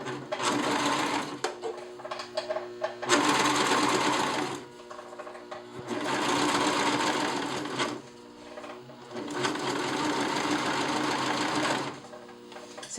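A coverstitch machine sews fold-over elastic onto a garment, running in steady close bursts of rapid mechanical stitching separated by short quiet pauses.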